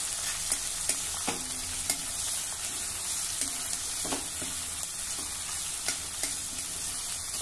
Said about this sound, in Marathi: मध्यम आचेवर आता हा कांदा लसूण आपण हलका तांबूस होईल असा परतून घेऊ।